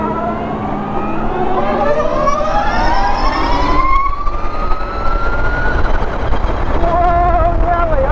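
Harley-Davidson LiveWire electric motorcycle accelerating on a ride, a loud whine climbing steadily in pitch with rushing wind, easing briefly, then rising again.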